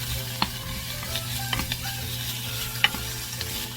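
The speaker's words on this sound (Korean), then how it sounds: "기름이 좀 나오면은 파를 넣고 또 볶아줍니다" Green onions stir-fry in hot oil with a steady close sizzle, broken by occasional sharp clicks of a spatula against the pan.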